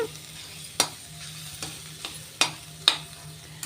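Semolina (rava) dry-roasting in a pan, a soft continuous sizzle punctuated by several sharp scraping clicks of a spoon stirring against the metal.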